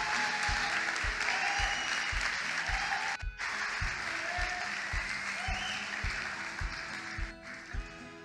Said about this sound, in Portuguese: Galera, vamos dar uma salva de palmas para os visitantes que tem hoje aqui?